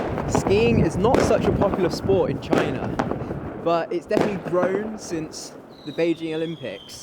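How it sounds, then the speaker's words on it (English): Fireworks and firecrackers go off around a small Chinese city, with scattered sharp bangs and crackles, some near and some distant, heard under a person talking throughout. "there are still fireworks going off absolutely everywhere."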